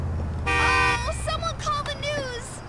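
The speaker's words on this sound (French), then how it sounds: "c'est pas toi que je klaxonnais" Car horn in the video game GTA4 sounds one sustained, loud honk of about half a second, followed by a voice talking over game ambience.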